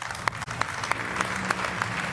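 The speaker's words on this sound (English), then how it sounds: "I ask an applause for Andrea" Applause at a motorcycle racing team presentation, a fairly faint, distant crowd clapping with a few sharper individual claps standing out and a low steady hum underneath.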